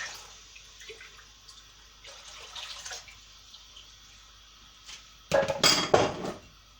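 Vegetable stock poured into a pan of onion for a gluten-free Thai vegetable curry: a short burst of liquid splashing and sizzling near the end, after quieter clinks of a pan and utensils.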